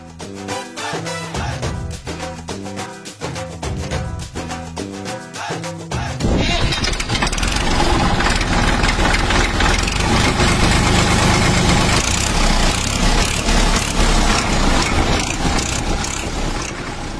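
A loaded farm vehicle, a tractor with trolley, rumbles into life after a few seconds of rhythmic cranking, then settles into a loud, steady, close idle with no talk.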